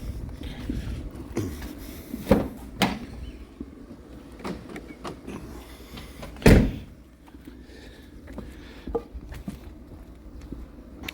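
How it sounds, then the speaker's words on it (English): A 2017 Volkswagen Transporter van's door is worked open with clunks and rattles, a sharp loud bang midway, and scattered metallic knocks around it. "Just open the door."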